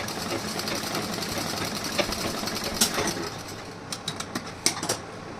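A sewing machine stitches a blouse armhole in a steady, fast mechanical whir with light rhythmic ticking, close and continuous, ending in a few short bursts as the stitching slows.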